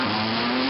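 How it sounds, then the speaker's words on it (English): A brief, loud burst of a rally car engine revving hard as its tires spin off the start line with traction control kicking in, close up. "lots of wheel spin off the line from him as the traction control kicks in"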